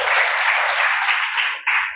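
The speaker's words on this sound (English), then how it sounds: "Everybody's clapping for him. Give big hand for him." Audience at a motivational talk clapping for a young man, a continuous hall of applause with a brief dip near the end before the clapping resumes, no voices heard.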